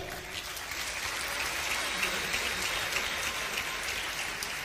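Sustained applause from an audience in a hall for ministers and vice-ministers during a political speech, a dense even patter of clapping held at steady loudness throughout with no break.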